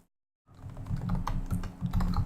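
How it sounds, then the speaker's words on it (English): Brisk keystrokes clatter on a computer keyboard as a command is typed in a quick, uneven run after a short silence. "I'm going to type a command here"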